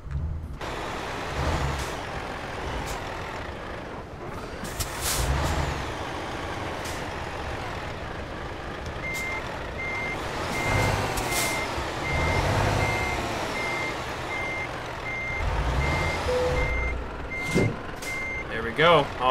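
A powerful truck of over 700 horsepower in Euro Truck Simulator 2 reverses to hook up a trailer loaded with an excavator, with repeated steady reversing beeps over engine rumble, sharp air brake hisses, and someone talking intermittently.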